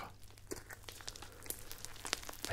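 Crunchy milk slime mixed with cereal pieces is squished and twisted up close, giving dense crackling, crinkly crunches and small pops in an uneven rhythm, fairly quiet and with no talking.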